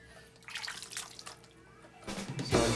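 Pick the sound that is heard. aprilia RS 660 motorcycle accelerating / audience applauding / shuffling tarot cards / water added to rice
water added to rice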